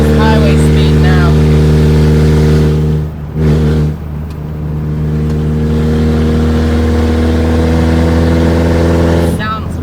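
Engine of a Mazda project car on its first test drive, cruising near highway speed with a loud steady droning hum and strong harmonics, briefly dipping before resuming, while people talk over it.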